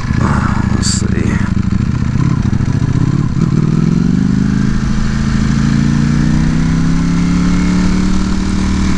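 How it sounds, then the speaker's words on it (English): A Ducati Panigale V4S motorcycle engine runs steadily and loudly nearby, its low rumble rising gradually in pitch as it revs, with a person talking over it. "The sound on this motorcycle is just amazing."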